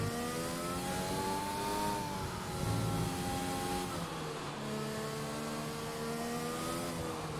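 A Formula 1 car engine in a wet-weather racing video game at the Japanese Grand Prix drones steadily and loudly, its pitch rising and falling with shifts and throttle changes as the car rounds the opening turn.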